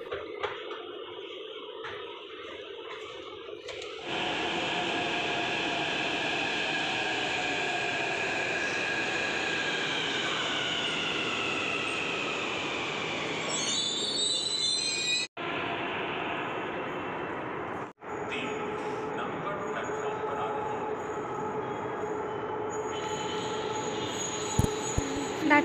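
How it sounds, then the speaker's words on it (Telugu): A Hyderabad metro train at a station platform, quiet at first, then the loud steady roar of the train running in with wheel squeal and shifting tones, a brief drop in level midway, and a lower rumble as it keeps moving. "ప్లాట్ఫామ్ నెంబర్ 3లో మన మెట్రో అనేది వస్తుంది"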